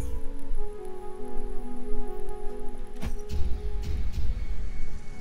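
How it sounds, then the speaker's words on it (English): Rain in the pixel-art action game Hyper Light Drifter, a soft steady patter of drops on surfaces under a low droning musical tone, with a brief muffled thump partway through. "The black reverse rain."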